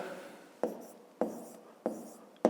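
Chalk or a marker taps and strokes on a board while a math solution is written, four short sharp strikes at steady intervals with faint scratching after each, close and quiet.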